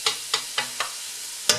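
Tomato sauce being stirred in a pot gives five soft, separate scraping strokes in a slow, even rhythm, faint and close, with no talking.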